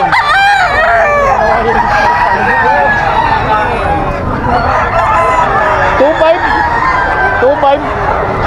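Rooster crowing repeatedly at a busy outdoor gamefowl market with standing sellers, the calls loud and steady amid constant crowd chatter and people talking nearby.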